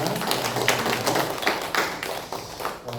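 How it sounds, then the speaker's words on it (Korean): A church congregation claps during a worship service to encourage two longtime communion servers, a steady dense patter of hands filling the room at moderate level. "두 분 우리 여기 다 나오셨는데 박수로 격려해 주시기 바랍니다."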